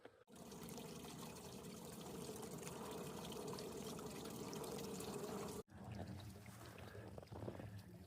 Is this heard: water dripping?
yes